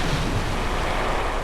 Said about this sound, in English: splashdown